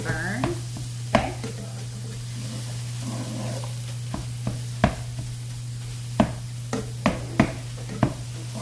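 Taco meat browning in a pan gives a steady sizzle, broken by sharp irregular scrapes and taps as a utensil stirs it around, close and fairly quiet.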